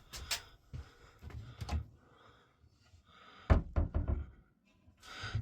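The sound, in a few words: cupboard door being fitted in a van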